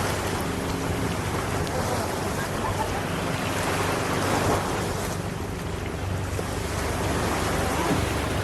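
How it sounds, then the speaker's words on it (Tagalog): Strong sea waves surging and crashing continuously, loud and close with heavy wind buffeting the microphone throughout. "Malakas yung alon."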